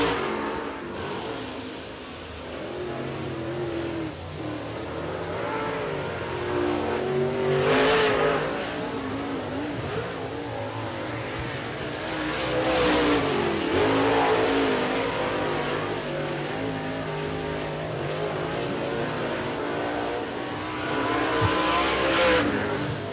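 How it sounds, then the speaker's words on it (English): A Mastersville race car, number 38, accelerates during Tarheel 50 qualifying at Tri County Racetrack, North Carolina. Loud, continuous engine roar rises and falls in repeated surges as the car laps, with no voices heard. "Jamie Oliver in that Mastersville race car number 38."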